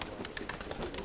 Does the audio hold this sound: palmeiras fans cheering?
no